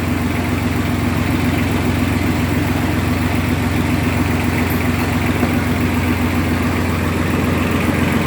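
The four-cylinder engine of a hydraulic well-drilling rig runs steadily, a loud continuous mid-low drone with a constant hum and mechanical chatter, no talking.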